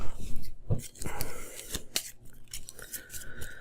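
Cards being shuffled for a Tanto Cuore board game, a quick series of close, crisp riffling snaps and flicks over a few seconds, with no talking.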